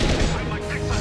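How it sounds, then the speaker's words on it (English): A high-impact gunshot in the video game Mass Effect 2 lands as one loud, dense burst that fills the whole second, with combat noise and voices mixed around it. "Firing a high impact shot."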